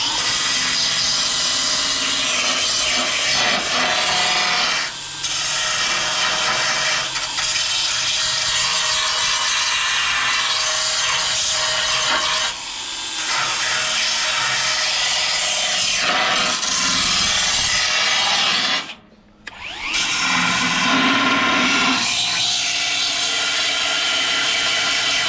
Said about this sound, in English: I'm going to tidy up with a sander.